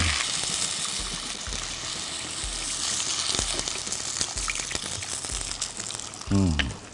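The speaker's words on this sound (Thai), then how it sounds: "ผมใส่น้ำก่อนครับ" Water poured into a cooking pot holding crushed turmeric for Thai boiled chicken with winter melon, giving a close, bubbling, sizzling wash of liquid with a brief louder gush near the end and some talk.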